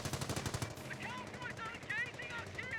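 Rapid machine-gun and rifle fire from a rifle squad's suppressive fire against an STG squad in the WWII strategy game Company of Heroes 1, bursts rattling continuously at moderate level with game sounds layered on top.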